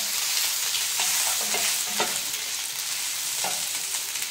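Chopped garlic and ginger frying in a hot kadai for dhaba-style tadka dal, a steady close sizzle with a few soft scrapes and knocks from stirring.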